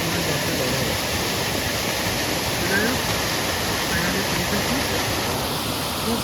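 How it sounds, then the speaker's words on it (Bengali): A waterfall on a trek near Belpahari roars in a steady, loud broadband rush that stays unbroken from start to finish, with no voices over it. "আর ঝর্ণাটা মোটামুটি ভালো"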